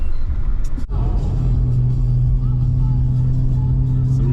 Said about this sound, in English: Some nighttime driving in the S4.